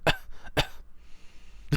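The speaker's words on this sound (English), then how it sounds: "That cough could be bronchitis." Several harsh coughs from a man recovering from a cold, close and loud, coming in short bursts with brief pauses between them.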